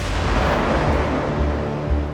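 A single artillery gun of the 47th Artillery Brigade fires, a loud, dense blast and rumble filling the whole stretch at close range with no pause or talk.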